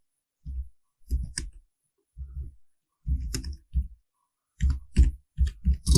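Keys clatter on a computer keyboard in short separate bursts of clicks with silent gaps between them, close and clear, with no talking.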